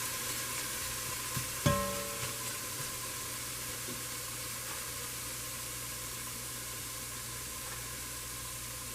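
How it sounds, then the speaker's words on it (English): Chicken pieces fry in a pan with a dense, steady sizzle, broken by a single sharp clack of a utensil early on and a few faint taps afterward. "so now I'm going to put my chicken in. And spread it out."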